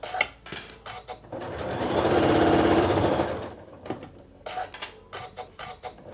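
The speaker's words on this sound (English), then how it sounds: "now we're gonna sew all the way down the length of this" A sewing machine stitching down a facing strip on a quilt, a fast, even mechanical whirring burst rising and fading over a few seconds, with quieter clicks and fabric handling before and after.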